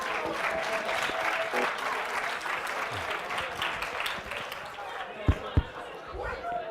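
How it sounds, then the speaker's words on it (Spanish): Audience applause after the introduction of a speaker at a tech talk, steady dense clapping with a few murmuring voices, ending in a couple of sharp thumps. "así que un fuerte aplauso para él."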